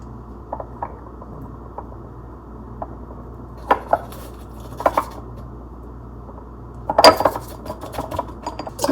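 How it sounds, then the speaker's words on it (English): Spices being tipped into glass jars in a home kitchen, with scattered light clinks and taps of glass and a louder cluster of rattling clatter near the end, close by with no talking. "Okay, so I'm gonna fill up these jars here."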